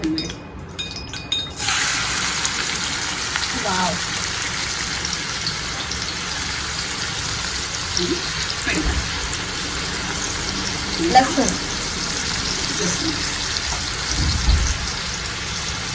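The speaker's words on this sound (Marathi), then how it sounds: "आपण आता कांदा भाजून घेऊया त्यासाठी त्यासाठी आपण दोन चमच तेल घेऊया" Onion sizzling in two spoons of hot oil in a pan, frying for a spicy dried shrimp sukat dish; a steady broadband hiss continues throughout with occasional faint pops and clinks, fairly close.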